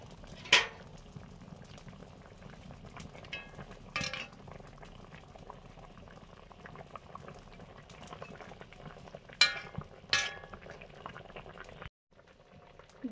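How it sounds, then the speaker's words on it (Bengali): Fish curry broth with potatoes bubbles in a pot, a steady close boiling burble broken by a few sharp clinks of a utensil against metal. "ঝোল ফুটে গেছে, আলু তো সেদ্ধ হয়ে গেছে, এবারে মাছগুলো দিয়ে দিচ্ছি।"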